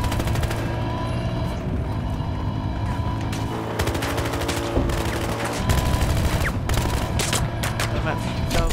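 Dense, continuous multiplayer gunfire in Battlefield: Hardline, rapid automatic bursts layered with louder shots and occasional booms filling the whole stretch without a break.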